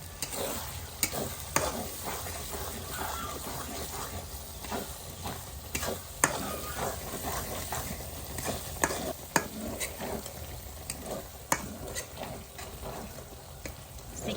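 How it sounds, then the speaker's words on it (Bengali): A masala with coriander and cumin powder sizzles and fries in a pan for chicken kosha, a soft continuous crackle punctuated by repeated scraping stirs and light clicks of a spoon against metal, with no speech. "চিকেন কষা রান্নার জন্য মশলাটা এভাবে কষাতে হয়"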